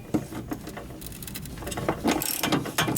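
Socket ratchet working loose a Corvair exhaust hanger bolt, a fast run of clicking pawl strokes in several bursts, close and fairly quiet.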